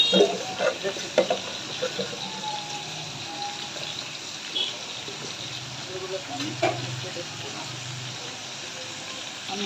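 Silver carp fish heads fry in oil in a pan, giving a soft, steady sizzle and hiss with occasional spatters and clinks, fairly faint and close.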